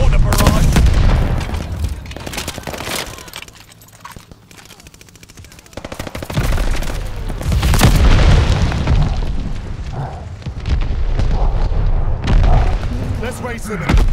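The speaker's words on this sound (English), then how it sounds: "Allies calling a mortar barrage!" A mortar barrage pounds a Call of Duty: Vanguard Domination match, with loud booming explosions and bursts of machine-gun fire in heavy waves, a brief quieter lull in the middle and callouts over the battle.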